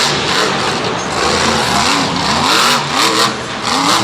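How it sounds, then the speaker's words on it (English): A monster truck engine revs hard at full throttle at a MetLife 2015 show, a loud, continuous roar with rising and falling pitch sweeps as the driver floors it. "he's flooring that truck"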